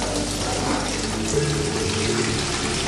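Milk is poured through a filter in a goat-cheese dairy workroom, a continuous liquid splashing and trickling stream that runs steadily from start to finish with no talk.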